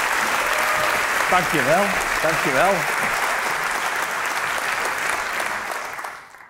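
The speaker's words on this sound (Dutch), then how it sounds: "Dus geef hem een heel hartelijk applaus." An audience in a church applauds warmly, a dense, sustained clapping that fades out at the end while someone briefly speaks over it.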